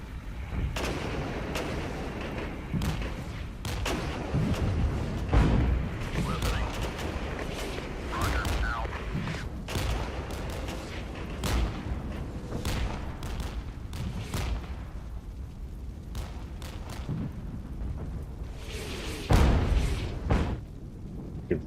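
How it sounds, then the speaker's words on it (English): Mortar fire in the wartime strategy game Regiments: repeated booming launches and impacts land at irregular intervals through a continuous rumbling battle din, with some loud cracks close by and others more distant. "Really good mortar fire there."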